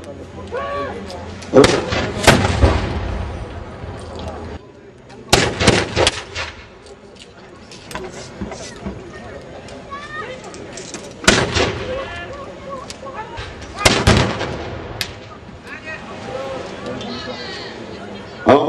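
Historical reenactment infantry ranks fire musket volleys, several sharp loud bangs in separate bursts with gaps between them, while spectators chatter and a commentator talks throughout.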